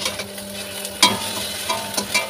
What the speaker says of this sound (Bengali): এখন আমি ডিমটা ভাজছি, তোমাদেরকে দেখাচ্ছি